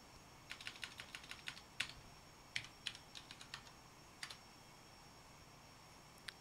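Typing on a computer keyboard during a flight simulator session, faint, with a handful of irregular key clicks in short bursts separated by pauses.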